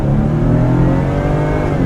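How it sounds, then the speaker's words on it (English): A 2015 Ford F-150 with the 2.7L EcoBoost turbo engine pulls under acceleration, a loud, steady, smooth engine drone with rising harmonics, heard close from inside the truck, no voices. "You simply press the gas pedal and it moves like magic."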